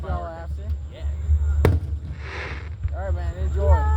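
Fourth of July fireworks display in Marianna, Florida, 2025, with a single sharp bang midway and distant crackling, heard outdoors under steady low rumble and people chatting nearby.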